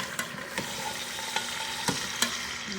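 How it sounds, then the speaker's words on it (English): Pork for carnitas searing in a hot pan gives a steady broadband sizzle throughout, broken by a few sharp pops and spits, close and moderately loud with no talk. "So it's been searing for about 20 minutes."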